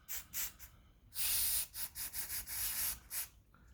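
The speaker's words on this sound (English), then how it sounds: "I just spray a bit out on the table" Black 2X spray paint hisses onto a table in bursts, a few short sprays and then a longer sustained one broken into pulses, close and fairly quiet.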